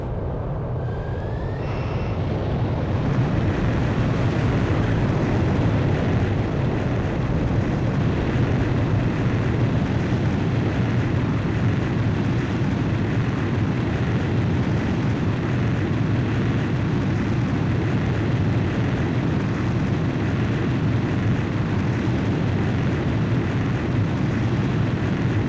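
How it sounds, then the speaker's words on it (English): In the Ace Combat 5 video game, a fighter jet launches by catapult from an aircraft carrier deck: a steady, loud, roaring engine rumble that swells quickly and holds unbroken for about twenty-five seconds. "Blaze, you are cleared for takeoff."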